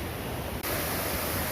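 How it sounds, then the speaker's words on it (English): A waterfall roars in a constant broadband rush of falling water, loud and near, with one momentary dip before the steady wash resumes. "One more waterfall."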